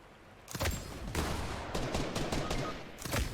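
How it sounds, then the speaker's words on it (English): Gunfire in the Fortnite video game, several sharp bursts of rapid shots in quick succession, loud and close with short gaps between volleys. "Somebody's shooting at me."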